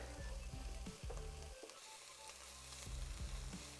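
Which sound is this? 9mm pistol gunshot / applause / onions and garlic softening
onions and garlic softening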